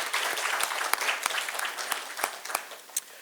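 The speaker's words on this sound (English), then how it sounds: "give these young people another round of applause" Applause for a group of young artists at a city press briefing, a steady wash of many hands clapping with a few sharp louder claps standing out, fairly close and without any voices.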